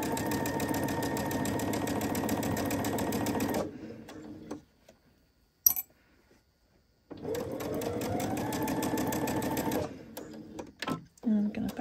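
A sewing machine stitches fabric in a fast, steady mechanical whir that runs for several seconds, stops for a short quiet gap with a small clack, then starts again and runs on, close up.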